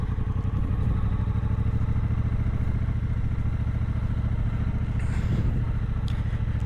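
A big new motorcycle ridden in first gear, its engine a loud, steady low drone that dominates throughout, with faint clattering and a brief rise near the end.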